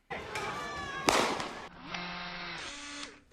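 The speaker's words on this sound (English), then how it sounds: "Zeminski lifts his gun into the air and fires." A gun fired into the air during a street confrontation: one sharp, loud report in the middle, set against a steady background of crowd and ambient noise.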